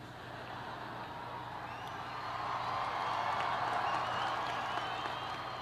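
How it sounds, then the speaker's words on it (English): A large audience at the 2009 Arizona State University commencement cheers and applauds in a distant, diffuse roar that swells steadily louder and then holds, with no voices standing out from the crowd. "that shouldn't get such a big cheer."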